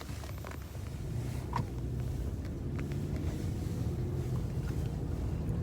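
A car is driven along a snowy, tree-lined road in cold weather, giving a steady low rumble of road and engine noise with some wind buffeting and no talking.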